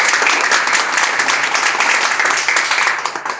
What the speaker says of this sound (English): I'd also like to give a wonderful hand clap for my campaign manager